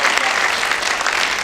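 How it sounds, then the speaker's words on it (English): Audience applause at an essay contest awards ceremony, a brief, even, fairly loud wash of many hands clapping with no pause through its short length. "You can clap."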